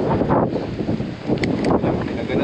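Wind buffets the microphone during a boat trip, a steady rough roar that rises and falls, with faint voices mixed in.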